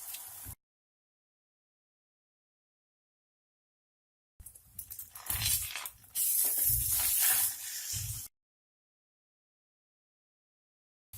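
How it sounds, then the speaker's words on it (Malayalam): Beaten egg is poured into hot oil and sizzles for a scramble: after a long silence, a loud crackling hiss bursts up and holds for a few seconds, close by, then cuts off abruptly. "എണ്ണ ചൂടായിട്ടുണ്ട്. നമുക്ക് അതിലേക്ക് മുട്ട ഒഴിച്ചു കൊടുക്കാം."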